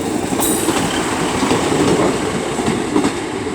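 Class 153 diesel unit 153327 passes at Crewe station, a steady close rumble of engine and wheels holding throughout with faint clicks over the rails.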